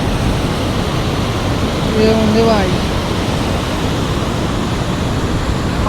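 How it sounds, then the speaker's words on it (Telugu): Steady roaring rush of a waterfall near Srisailam fills the scene, broadband and constant, with a brief voice speaking over it partway through. "ఇక్కడ చూడండి ఇంకొక వాటర్ ఫాల్స్ అయితే ఉంది"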